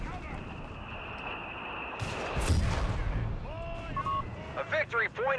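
Machine gun fire in the strategy game Company of Heroes 3, part of a distant battle din with a sharp crack and rumbling blasts, tonal game alert sounds, and a voice talking over the mix throughout.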